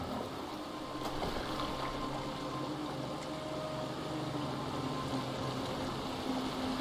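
A boat moves across water in Assassin's Creed Valhalla, with a steady low rumble and water wash running continuously at moderate loudness.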